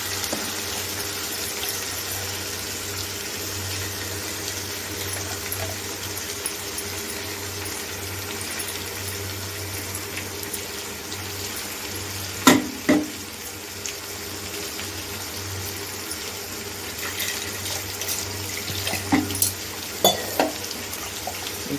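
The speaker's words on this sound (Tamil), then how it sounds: "மிக்ஸி கழுவி கொஞ்சம் தண்ணி ஊற்றிக்கலாம்." A mixer grinder jar is rinsed with tap water in a home kitchen while sundal kulambu is being cooked. Running water makes a steady hiss over a low hum, and a few clinks and knocks of the jar break through near the middle and toward the end.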